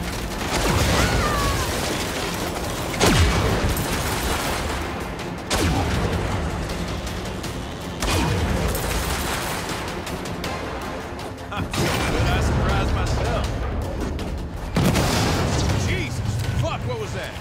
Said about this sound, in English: I'm seeing explosions all over